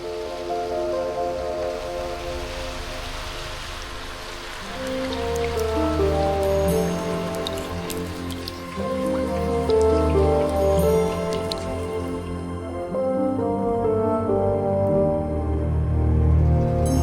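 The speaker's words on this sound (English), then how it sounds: "It's raining today" Steady rain patters and drips close by, a dense wet texture that swells a little louder partway through and keeps going without any voices.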